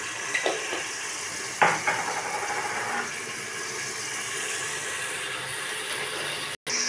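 Aloo gosht with ground coriander, turmeric and salt frying in a pot, a steady sizzle with a few scraping stirs near the start, no talking.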